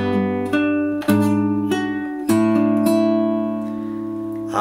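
Fingerstyle acoustic guitar plays measure 6 of a song from Toy Story 2, a run of clear plucked notes and bass tones ringing over each other, close and steady, with no voice.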